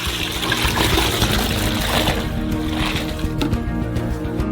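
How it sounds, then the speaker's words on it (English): Milk, eight liters of it, pours steadily into a saucepan for making caramel, a continuous liquid splash and trickle at close range that tapers off slightly toward the end. "pour 8 liters of milk into a saucepan in advance"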